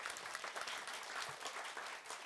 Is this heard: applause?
yes